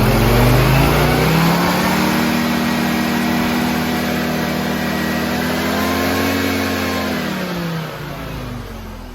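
A Mazda RX-7 FC rotary engine, flooded and still smoking, revs in a long, smooth rise and fall, then eases back toward idle, loud and close with no talk.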